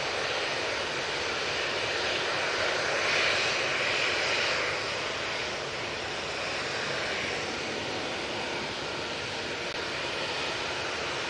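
A KLM Airbus A321neo jet on its takeoff roll at Manchester Airport produces a steady, broad engine roar heard from a distance, holding fairly even throughout with no voices.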